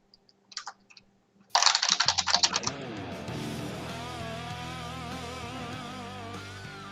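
A short burst of rapid computer keyboard typing, crisp close clicks of several keys, followed by sustained music that takes over after the keystrokes stop.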